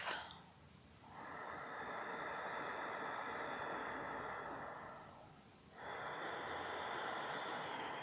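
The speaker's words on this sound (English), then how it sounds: "Bringing a slight constriction to the back of your throat, as if you're fogging up a mirror, keeping your mouth closed. And making this sound as you breathe." Ujjayi breathing during a vinyasa yoga flow, a slow, oceanic hiss made through the nose with the mouth closed and a slight throat constriction, heard as two long, steady breaths, close and soft, with no talking.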